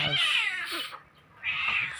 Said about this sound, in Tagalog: napakaingay ang aking alaga ang pusa natin ang labas